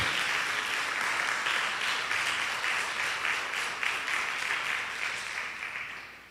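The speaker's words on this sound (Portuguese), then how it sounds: "Aplauda forte o nome do Senhor." A church congregation applauds loudly and steadily for several seconds, the clapping gradually fading toward the end.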